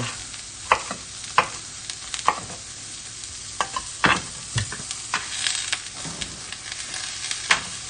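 Vegetables for ratatouille frying in olive oil in a pan, with a steady close sizzle punctuated by repeated sharp stirring scrapes and clinks at irregular intervals.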